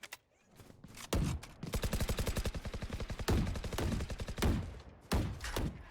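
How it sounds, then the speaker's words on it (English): In Valorant, rapid automatic gunfire shreds Sage's barrier wall, long close bursts broken by brief pauses and a few single shots, loud and with no voices. "Gonna waste half of his bullets taking that wall down, but providing lots of cover noise for his teammates to push up mid."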